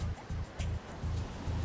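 Ocean waves break on a reef beach near a shark-prone barrier wall, a steady low surf rumble pulsing in short surges.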